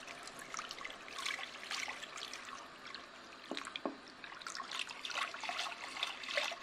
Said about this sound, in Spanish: En este momento incorporamos 500 ml de leche tibia.